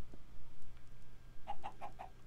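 Chickens cluck in the video game Minecraft, a short run of four or five soft, evenly spaced clucks arriving late against a faint, low background hum.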